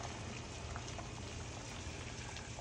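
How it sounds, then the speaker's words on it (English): Heavy rain pours steadily outdoors on a gloomy winter morning in California, a dense, even hiss with scattered drip and splash ticks, continuous and fairly faint throughout with no talking. "you can hear the rain really"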